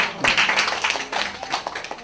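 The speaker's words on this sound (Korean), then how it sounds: "우리 하나님께 박수 올려주세요" Church congregation clapping during a Sunday sermon, a brief burst of close, loud, irregular claps that thins out over two seconds.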